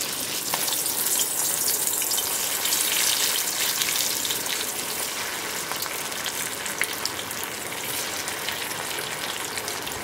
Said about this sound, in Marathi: आणि आता आपण तळूया.